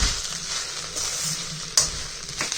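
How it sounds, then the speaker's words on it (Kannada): Hakka noodles tossed with fresh coriander in a hot pan give a steady close sizzle of frying, with scraping stirs and a sharper clink near the end. "ಇವಾಗ ಲಾಸ್ಟಲ್ಲಿ ನಾನು ಕೊತ್ತಂಬರಿನ ಸೇರಿಸ್ಕೊಂಡು ಇನ್ನೊಂದು ಸಲ ಮಿಕ್ಸ್ ಮಾಡ್ಕೊತೀನಿ."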